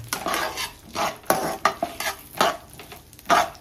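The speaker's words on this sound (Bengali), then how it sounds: "এর মধ্যে আমি নারিকেলের টুকরোগুলো দিয়ে দিচ্ছি, একটু ভেজে নেব" Coconut pieces fry in a pan, with a soft sizzle under repeated scraping strokes of a utensil stirring them, close and in an irregular rhythm, with no talking.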